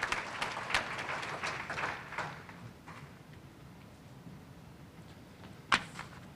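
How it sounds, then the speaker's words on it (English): Banquet audience at the Lorain Sports Hall of Fame enshrinement applauds inductee Jim Jenkins, fairly faint scattered clapping that tapers off, followed by a single sharp knock near the end. "a big round of applause for Jim Jenkins on his induction into the Lorain Sports Hall of Fame."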